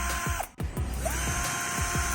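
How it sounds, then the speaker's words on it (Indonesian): A DCA ADJZ1202E cordless driver drill with a carbon-brush motor whirring close up, a steady mechanical drone with regular rhythmic clicks and one brief dip in the motor sound. "Mesin bor ini masih menggunakan carbon brush, dan bukan tipe yang brushless"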